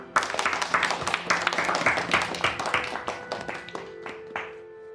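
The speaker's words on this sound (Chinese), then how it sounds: "大家用热烈的掌声来欢迎邱总。" Warm applause greets Mr. Qiu at a village gathering, a dense wash of many hands clapping for the full stretch before thinning out, with a faint tone sounding near the end.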